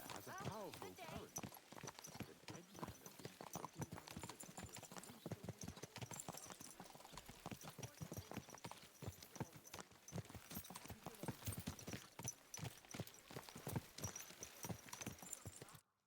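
Horse hooves clip-clopping in a steady walking rhythm in the medieval video game Kingdom Come Deliverance 2, close and continuous throughout, with voices speaking over the hoofbeats.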